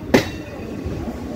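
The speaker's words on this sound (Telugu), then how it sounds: "ఈ మెయిన్ లైన్కి ఎక్కేటప్పుడు వచ్చే సౌండ్స్ ఉంటాయి చూసారా, ట్రాక్ చేంజ్ అయినప్పుడు" A passenger train travelling between Vijayawada and Guntur crosses points from a loop line onto the main line, giving one sharp metallic clack followed by a continuous low rumble of the wagons heard from on board.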